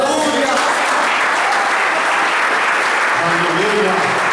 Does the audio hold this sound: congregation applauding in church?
yes